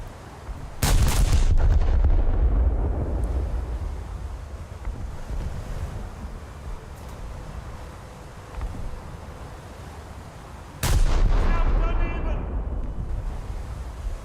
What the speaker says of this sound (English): That is the Wyoming shooting me, I think.